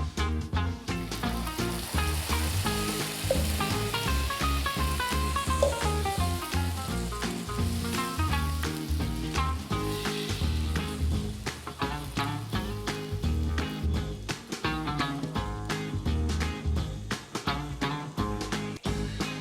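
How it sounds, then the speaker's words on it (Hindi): Tomato sauce added to a hot pan sizzles and fries steadily for a long stretch, a dense crackling hiss with stirring, over background music. "एंड अब जो पहले हमने टोमेटो की सॉस बनाई थी we will add that in this pan."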